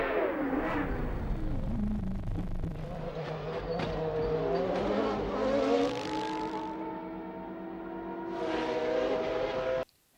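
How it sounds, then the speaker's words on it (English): Formula 1 cars racing at the 1994 Adelaide street circuit, engines howling and revving continuously at close range, pitch rising and falling as cars accelerate and pass, with a loud surge near the end before a sudden cut. "Schumacher collided with his championship rival Damon Hill."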